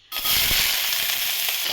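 Sliced onion drops into hot oil in a pan, bursting into a loud, steady sizzle and crackle that continues without pause.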